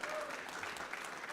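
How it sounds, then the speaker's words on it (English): Brief, faint burst of audience applause for Russell Bhai at an event, a distant wash of clapping lasting barely over a second with a voice faintly underneath. "Come on, a big round of applause for Russell Bhai."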